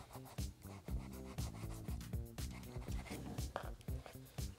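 A plastic scraper drags across a wood board to clear away excess filler wax from a repaired scratch, giving a series of close, rhythmic rasping strokes with short pauses between them.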